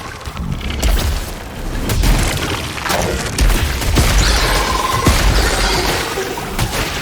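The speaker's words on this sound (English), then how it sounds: "I just love the way you have these waves of lasers still coming at you, even though the enemy's dead" Dense layered booms and crashing bursts of laser and projectile fire from the video game Returnal fill the scene continuously, loud and chaotic with no speech.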